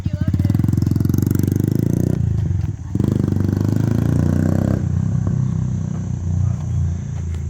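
A Norton motorcycle fitted with a Yoshimura exhaust pipe revs loudly and close by in rising and falling bursts, with a brief dip partway through and voices talking over the engine.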